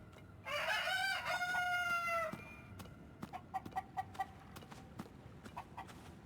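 A Cucco rooster crows loudly in a hideout in Zelda: Tears of the Kingdom, a long warbling call, followed by a run of short scattered clucks and pecking clicks from the flock nearby.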